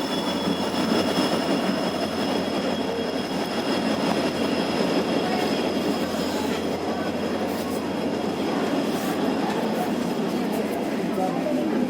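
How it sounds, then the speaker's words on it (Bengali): A train arrives at Tangla station with a loud, continuous rumble and rolling wheel noise, joined by faint high squeals, close and steady throughout. "ট্রেন এসে পড়েছে।"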